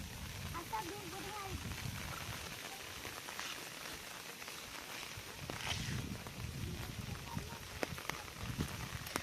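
Heavy rain pours steadily over a village in flood season at dusk, a dense continuous hiss with scattered louder patters, while a voice talks faintly beneath it.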